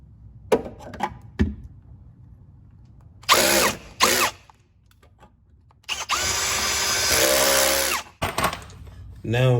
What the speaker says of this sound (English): we use the drill to drill out the holes for the self-tapping screws